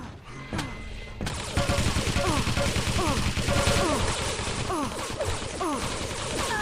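Rapid machine gun fire in a Quake team deathmatch grand final, bursts of repeated shots running steadily throughout alongside other weapon blasts, with a voice talking underneath.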